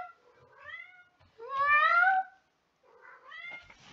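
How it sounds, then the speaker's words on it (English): Lulu, a pet cat, meows repeatedly nearby: a soft call, a loud drawn-out meow, then a quieter trailing one, with nothing else in the quiet room. "It's my cat Lulu."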